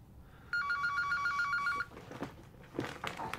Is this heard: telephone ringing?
yes